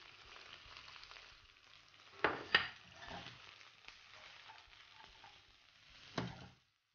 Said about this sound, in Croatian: na srednje jake vatri pržimo dok povrće malo ne omekša